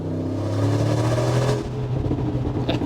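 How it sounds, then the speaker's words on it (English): Brabus G-Class G-Wagon, a 700 hp tune based on the G63 AMG, revving hard at full throttle under a bridge, with a loud, sustained engine roar that builds and then breaks into rougher bursts near the end. "So I will do a little sound check here under this bridge again. And I will give it full throttle and see what happens."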